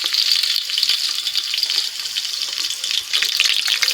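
Garlic frying in a pan for chicken curry, a loud, steady hiss and crackle of sizzling oil, close up and continuous, with no talking.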